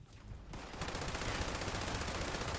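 Rapid automatic gunfire in a video game rattles in a dense, continuous burst after a brief lead-in, loud and close, with no talking.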